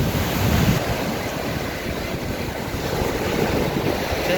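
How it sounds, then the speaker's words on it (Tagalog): High ocean waves surge and crash steadily at a beach in Bolinao, Pangasinan, a broad continuous roar mixed with wind buffeting the microphone. "sobrang tataas ng alon."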